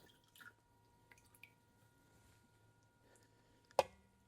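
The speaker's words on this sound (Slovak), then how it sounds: "Stehná vyberiem z vody a nechám ich odkvapkať." Water drips from boiled chicken thighs left to drain, a quiet scatter of faint, sparse drops with one sharper, louder splash near the end.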